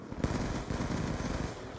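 Rapid automatic gunfire from a gun in the video game Black Ops II, a dense burst of close shots starting abruptly and continuing steadily to the end.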